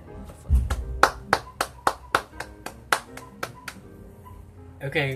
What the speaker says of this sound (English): let me pause the video and then give Anson Low a round of applause